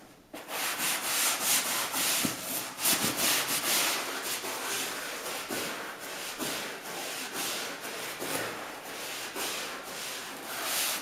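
A brush scrubs repeatedly over leather in quick rhythmic back-and-forth strokes, a close, soft, steady rubbing with no talking.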